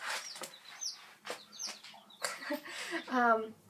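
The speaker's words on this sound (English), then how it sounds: "They are chickens" Chicks peep and cluck repeatedly at close range, a busy mix of high chirps, with a lower, drawn-out call near the end.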